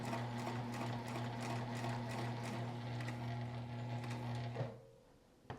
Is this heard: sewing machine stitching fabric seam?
yes